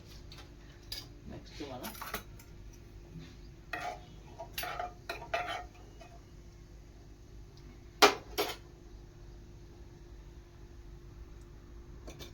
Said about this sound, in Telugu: ఆవాలు ఇలా చిరుపట్లాడుతుండగా